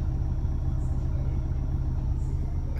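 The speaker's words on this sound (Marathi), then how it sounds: "गाडी चालू केलेली आहे." A Maruti Swift Dzire automatic idles steadily just after being started, its low engine rumble holding even and constant throughout with no talk over it.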